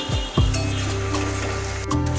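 Onion sautéing in a pan for batata poha, a steady soft sizzle with a couple of low clunks from stirring or the pan at the start.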